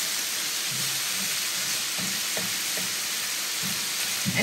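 Diced green onion and sausage frying together in a pan, a loud, steady close sizzle with occasional soft crackles and stirring scrapes.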